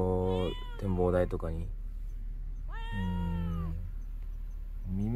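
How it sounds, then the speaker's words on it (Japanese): Kittens meow repeatedly near a Sakurajima viewpoint in Kagoshima, Japan, with several clear, drawn-out cries in a row and a person speaking briefly between them. "いっぱいあっちこっち猫おるんや"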